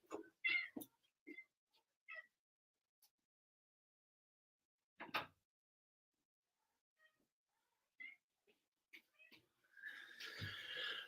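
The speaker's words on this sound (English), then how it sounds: "Hopefully you got to hear my cat squeaking at me as I left the room there" A house cat squeaks and meows in short, sparse bursts with long quiet gaps between them, faint and close in a quiet room.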